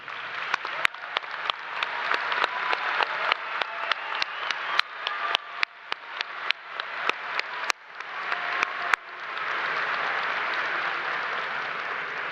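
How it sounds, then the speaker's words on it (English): Audience applause at a business school commencement ceremony, a large crowd clapping loudly and steadily, with a string of sharp pops and clicks along the way before the applause settles into a smooth roar. "let's do give them a hand of applause for all that they've done for you"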